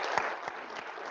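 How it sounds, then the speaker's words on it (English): Brief applause from an audience at an HR council meeting, a short burst of steady clapping with no voices over it. "big round of applause to those SPO people who know who are"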